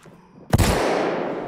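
A flashbang grenade detonates in the tactical shooter Ready Or Not, a single sudden loud bang after a quiet moment, followed by a sustained ringing, hissing wash that slowly fades.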